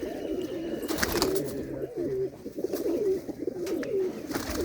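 A flock of pigeons at a loft in Lambu Mahmoodpur, Punjab, coos in repeated low, rolling calls close by, several birds overlapping against a steady rustling background.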